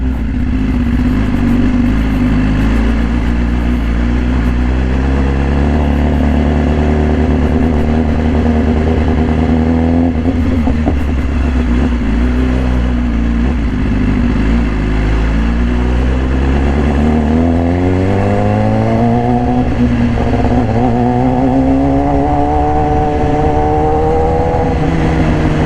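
A red 2018 BMW S1000RR, a 999 cc inline four-cylinder sport motorcycle fitted with an Austin Racing exhaust, droning loud and close while riding, its engine pitch holding steady and then climbing smoothly as it accelerates near the end.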